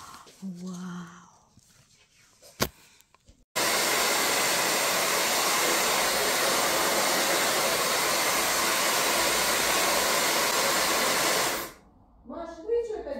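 A Dyson hair dryer switches on abruptly and blows with a loud, steady whooshing roar for about eight seconds, then cuts off. Brief voices and a sharp click come just before it, and talk resumes afterward.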